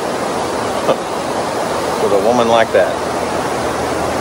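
A waterfall on a creek produces a steady, fairly loud rushing wash throughout, with a person speaking briefly over it.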